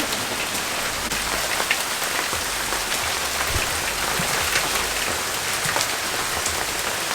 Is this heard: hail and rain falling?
yes